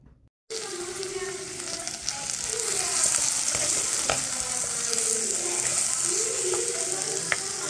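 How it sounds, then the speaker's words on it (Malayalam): Chopped onion, ginger and green chili sautéing in a pan make a loud, continuous sizzle up close, with occasional stirring scrapes after a brief quiet start. "ഉള്ളിയും ഇഞ്ചിയും പച്ചമുളകും എല്ലാം അരിഞ്ഞു വെച്ചിട്ടുണ്ടായിരുന്നു കേട്ടോ പിന്നെ ഞാൻ ഓടിപ്പോയിട്ട് അതങ്ങോട്ട് വഴറ്റുവാണേ"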